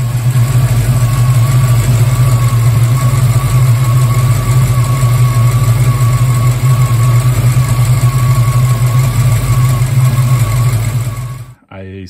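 A warm Foxbody car engine idles close by with a loud, steady low rumble and a slight surge, then cuts off abruptly at the end.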